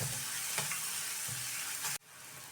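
Finely chopped onion roasting in a pan, a continuous close sizzle with a few stirring scrapes, cutting off abruptly near the end to quieter residual frying.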